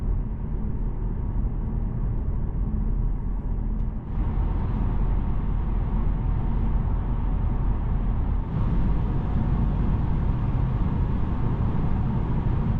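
A 2020 Mercedes E220d 4matic diesel runs continuously, giving a steady, even drone that holds unchanged for the whole stretch without any talking.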